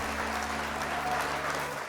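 Steady applause from a crowd, dense and continuous clapping without pause.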